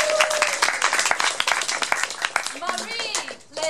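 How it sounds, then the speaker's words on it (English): An audience applauds after a performance of a Balinese dance-drama, a dense wash of clapping hands under scattered voices and a short sung or spoken tone, loud and close for a few seconds. "Give a round of applause."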